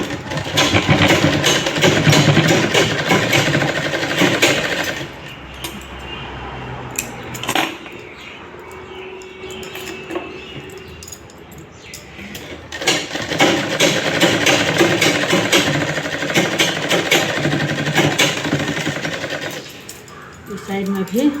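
A sewing machine stitching a lined blouse whirs in bursts, with a long run at the start and another in the second half, a quieter pause between, and a voice speaking over parts of it.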